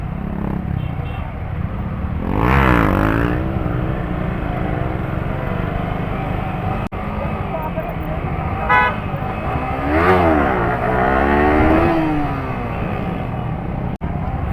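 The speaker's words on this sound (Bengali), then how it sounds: "ও ভাই নেক্সট লেভেল হুইলি মারছে আমার বাইকে" A motorcycle pulling a full-power wheelie revs hard in two rising and falling bursts over a steady idling drone, close and loud, with vehicle noise around it.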